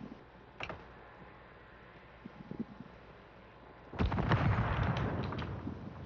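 A mine detonates in Warzone 3 Plunder mode. A few faint clicks and taps come first, then a sudden loud blast rumbles on to the end.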